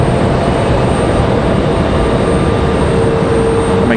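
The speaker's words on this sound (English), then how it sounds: "We've got Southwest headed out to the end of the runway." Southwest airliner rolling toward the runway end at Raleigh Durham airport, a loud steady jet engine roar with a constant high whine, continuous and unbroken throughout.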